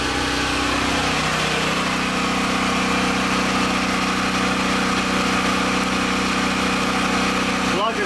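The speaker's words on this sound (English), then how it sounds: "Generator sounds fine." Portable generator running steadily while powering a 1998 Maytag Performa electric dryer, a continuous loud close engine drone with mechanical rumble and no change in pace.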